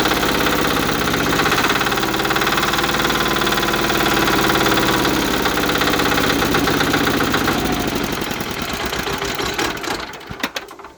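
A Cub Cadet HDS 2185 turbo diesel tractor engine with an electric fuel pump revs steadily up under throttle, a loud, close, continuous knocking rumble that holds level for several seconds before dropping off at the end.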